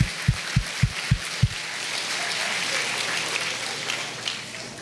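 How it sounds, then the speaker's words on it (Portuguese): A church congregation claps, starting with five distinct, evenly spaced claps up close. These give way to a dense, steady wash of crowd applause that holds moderately loud to the end. "dê uma salva de palmas para ele"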